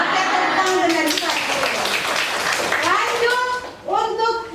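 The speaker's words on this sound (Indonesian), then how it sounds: "tepuk tangan dari Pak" A classroom gives brief clapping and applause, light and scattered, mixed with children's voices and an adult speaking over it, close and lively.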